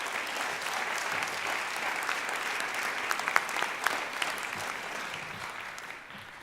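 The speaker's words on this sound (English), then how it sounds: "Please join me once again in a round of applause for the faculty of William Paterson University." Audience at a William Paterson University convocation ceremony applauds the faculty, a steady, dense round of clapping from a large crowd that holds at an even level and then begins to taper.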